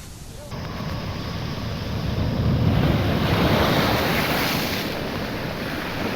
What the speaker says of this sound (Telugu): ఉప్పాడ సముద్ర తీర ప్రాంతంపై రాకాసి అలలు ఉవ్వెత్తున ఎగసిపడుతున్నాయి ఉప్పాడలో ఈదురుగాలులా వీస్తున్నాయి వర్షం కురుస్తోంది